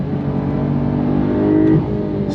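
A 2022 Porsche 911 GTS engine pulls steadily under acceleration, a continuous close-up drone from inside the car that swells slightly before easing off, with no talking.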